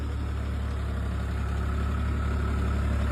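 A farm tractor idles steadily close by during field ploughing, a continuous low diesel rumble with an even throb and no change in pitch, with no voices over it.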